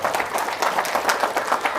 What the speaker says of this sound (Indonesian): tepuk tangannya dong buat kita semua yang hadir pada malam hari ini